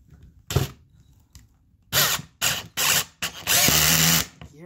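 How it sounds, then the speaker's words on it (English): A power drill whirs in several short bursts separated by pauses, the last one longer with a rapid ratcheting click as the torque limiter clutch slips. "here's an example of the torque limiter in action"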